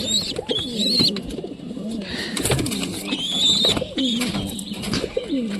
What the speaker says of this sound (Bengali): কবুতর লফটের ভিতরে চলে আসলাম